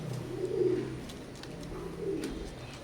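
Oman Teddy pigeons coo softly nearby, two low rolling coos spaced over a couple of seconds against quiet room noise and faint clicks.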